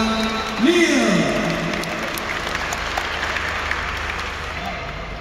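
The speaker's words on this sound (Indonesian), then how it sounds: "kita beri tepuk tangan yang meriah untuk Pak Neil" Applause from an audience at a ceremony at Taman Mini, Jakarta, steady and fairly loud throughout, with a brief whistle-like tone near the start over the crowd noise.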